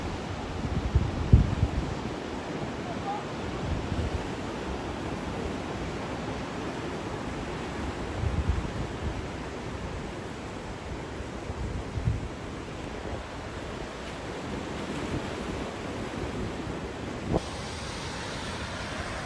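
Ocean waves wash in at Nusa Dua beach in Bali, a steady rushing surf heavily mixed with wind buffeting the microphone, continuous and fairly loud with no voices.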